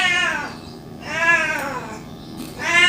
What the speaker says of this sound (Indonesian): Kucing lagi.